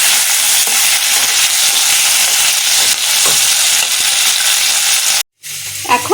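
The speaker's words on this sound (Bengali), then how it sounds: "পেঁয়াজগুলো তাহলে তাড়াতাড়ি ভাজা হয়ে যাবে।" Onions sizzle loudly in a hot pan while being stirred, a dense continuous frying hiss with scraping strokes, cut by a brief silence before gentle stirring resumes.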